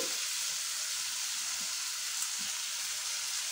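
Prawns cooking down in masala in a pan for a runner bean and prawn curry make a steady, soft hiss of sizzling oil with faint stirring underneath.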